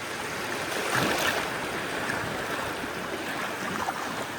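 Sea waves wash against the shore in a steady broadband rush with a slightly stronger surge early on, heard alone at moderate distance.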